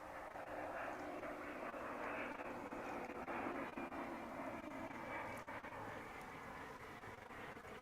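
United Airbus A319 on final approach to DFW airport, a distant, faint, steady jet engine roar and rumble that holds evenly from start to finish with no voices.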